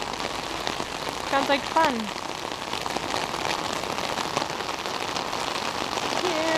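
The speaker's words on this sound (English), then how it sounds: "it's pouring raining and there's like hurricane warnings" Heavy rain pours onto a street during a hurricane warning, a dense, steady hiss that runs throughout, with voices talking briefly over it.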